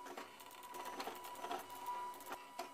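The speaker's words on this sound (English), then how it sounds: "this plasma printer" A homemade plasma printer runs with a soft, rapid stream of mechanical ticks and faint buzzing, quiet and steady with small pulses, no voices.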